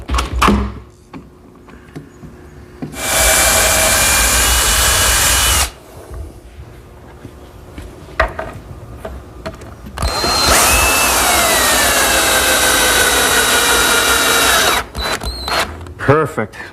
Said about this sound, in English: It's a step drill. It drills just the right diameter for the thread and for the shank of the screw.